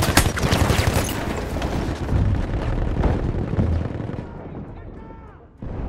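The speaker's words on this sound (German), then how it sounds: "Ich werfe eine Granate." Grenade blast in a World War I battle game set in the City of Amiens: loud booming explosions and crackling gunfire fill the scene, fading into a quieter rumble near the end before another burst, with voices in the background.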